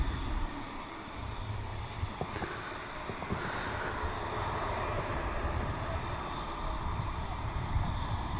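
Air France airliner climbing out from Manchester Airport, a steady broadband engine roar at moderate distance with wind noise, holding level throughout without a clear rise or fade.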